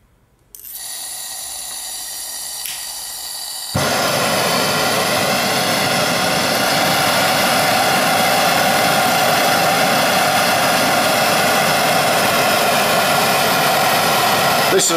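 A Sievert 3524 19mm cyclone gas burner, rated 240 grams of gas per hour and 3.1 kilowatts, gives a low hiss and then bursts into a loud, steady, close roar that continues without a break to the end.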